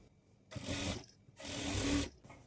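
A sewing machine runs in two short bursts of rapid mechanical whirring and rattling as a blouse is stitched near the armhole, with a brief pause between bursts, close by and fairly quiet.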